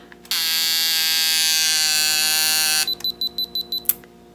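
A damaged camera trying to power on: a harsh electrical buzz drones for about two and a half seconds, then a series of six short rhythmic beeps follows, close and clear.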